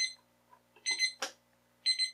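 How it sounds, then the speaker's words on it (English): A DreamSky portable alarm clock sounds its alarm, giving short, fairly quiet electronic beep bursts spaced about a second apart, with a brief click between them. "we should have an alarm going off"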